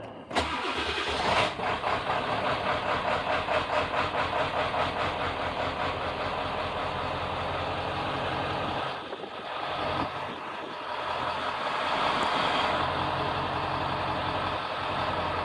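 A 1995 Powerstroke diesel truck engine, after a fuel pump replacement, cranks, catches and settles into a steady, loud idle that rumbles on continuously, with a brief dip partway through.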